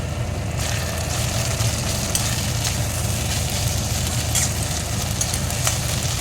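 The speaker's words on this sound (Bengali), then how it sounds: "একটু ভালো করে ভেজে নেব আবার" Tomato with green and dried chilies sizzles steadily in a hot pan, a continuous loud crackling fry with occasional stirring scrapes.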